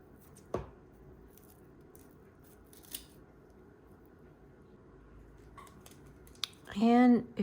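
Scissors snip plant buds for handmade paper in a few sharp, isolated cuts spread across a quiet room, followed by a short burst of a voice at the end.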